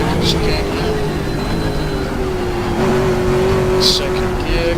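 Engine of a GT race car in the GTR24h racing game holds a steady, loud drone through second gear, staying high in the revs without pause while someone talks over it.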